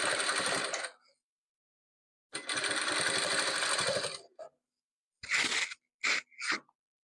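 Bursts of rapid mechanical stitching from a sewing machine joining patchwork squares, a long run, a pause, another long run, then several short quick bursts, close and clear without talk.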